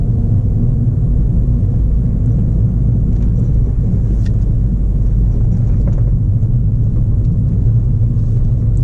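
A manual car's engine rumbles steadily as it accelerates, held in each gear a little longer before shifting, loud and close with a deep low drone throughout and no talk.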